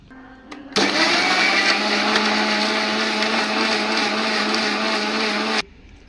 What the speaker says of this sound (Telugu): దీన్ని ఇప్పుడు మనం బ్లెండ్ చేసుకుందాం